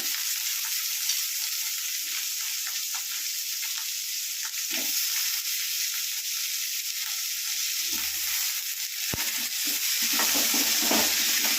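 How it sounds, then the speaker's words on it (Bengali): Small-cut potatoes frying in a pan, a loud, steady hiss of hot oil that holds through the whole stretch, with a few soft knocks and scrapes as they are stirred. "দিয়ে দিচ্ছি ছোট ছোট করে কাটা আলু"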